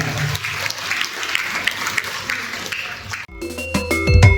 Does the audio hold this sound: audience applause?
yes